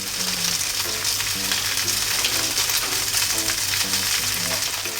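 Steady loud sizzle of green pepper and cheese mixture frying flat in a pan, continuous and close with no talk over it.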